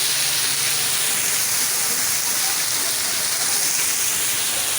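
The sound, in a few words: waterfall spray falling like heavy rain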